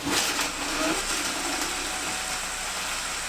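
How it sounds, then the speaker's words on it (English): A blender runs steadily, whirring as it purées red chile sauce seasoned with salt, a continuous close, loud motor drone. "we are going to blend this up completely"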